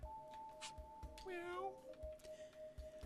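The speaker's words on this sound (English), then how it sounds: "Those cat noises are annoying as shit" In the video game Three Dead Zed, a single cat meow rises and falls at mid-loudness over background game sounds, with a few brief thumps around it.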